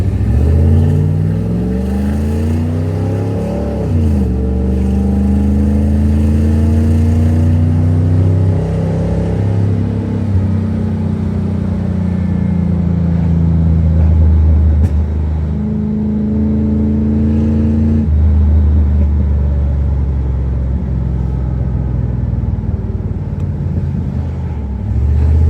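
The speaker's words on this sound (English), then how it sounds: "Let's see what a full first gear launch will do." A 1982-1992 third-generation Camaro with an Edelbrock exhaust system makes a full first-gear launch, its engine revving hard and loud and climbing in pitch in a long, continuous roar with one gear-like dip midway.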